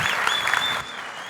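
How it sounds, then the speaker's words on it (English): Audience applause for a presenter at an Ignite talks event in Aarhus, a short burst of steady clapping that thins out after a moment, with a faint tone running underneath. "Big round of applause for Henrik."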